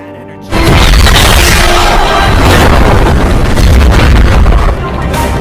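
A helicopter explodes in a film, a loud blast bursting in after a brief quieter moment, followed by a sustained roaring rumble and crackling debris that fill the rest of the clip.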